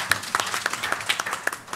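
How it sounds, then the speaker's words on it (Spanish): Applause from a literary reading audience clapping for a presenter after a short story, scattered claps forming a fairly quiet, steady patter throughout. "Aplausos para Felipe."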